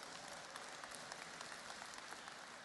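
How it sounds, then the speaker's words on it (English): Faint, distant audience applause for a student at a live internet business training session, a soft continuous patter of clapping with no voices. "So give Thierry a round of applause."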